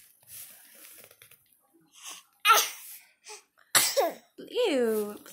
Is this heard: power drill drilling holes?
no